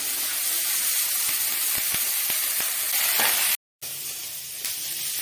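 Curry leaves and mustard seeds crackle in hot oil as a South Indian-style tempering for suji upma; a steady, close, bright sizzle runs throughout, broken once by a brief dropout.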